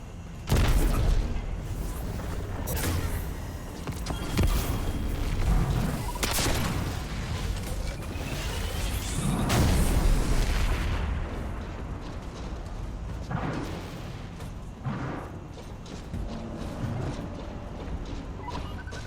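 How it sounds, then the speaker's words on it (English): Rockets launch in Destiny 2 at a boss in a Grandmaster Nightfall, heard as several punchy booms spaced seconds apart over steady combat noise. "I'm going to chip away at it a little bit with my rocket launcher"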